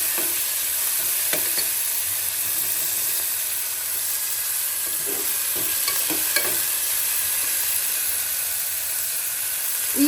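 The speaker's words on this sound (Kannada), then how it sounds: "ಫ್ರೈ ಮಾಡೋಣ" Tomato frying in a pan, with a steady loud hiss of sizzling oil and occasional spoon scrapes and taps against the pan.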